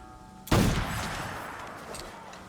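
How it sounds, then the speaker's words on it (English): A single loud ricochet bullet shot from a teppo matchlock gun in Assassin's Creed Shadows cracks sharply after a short quiet moment, then rings and decays into a long echoing tail. "if I use the ricochet bullet, you can see here"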